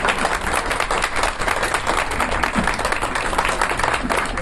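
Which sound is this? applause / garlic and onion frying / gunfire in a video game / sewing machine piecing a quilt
applause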